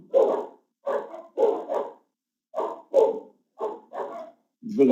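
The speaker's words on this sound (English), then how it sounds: "The delivery man just arrived. Dogs are getting crazy." Several dogs bark excitedly at a delivery man arriving, loud nearby barks in quick pairs with short pauses between bursts, a whimper-like yip at the end.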